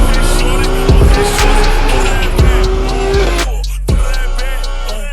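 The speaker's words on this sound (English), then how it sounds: "Downshifting in the tunnel and my ears exploded." Mercedes car on Forgiato wheels downshifting inside a tunnel, a loud close engine roar with sharp revving blips and pops between gear changes, echoing off the walls.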